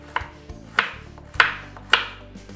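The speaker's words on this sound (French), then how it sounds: "On va mettre nos carottes qu'on va couper en rondelles comme ça" A knife slices carrots into rounds on a cutting board for a venison civet. Four crisp, evenly spaced chops sound close and clear with nothing else around them.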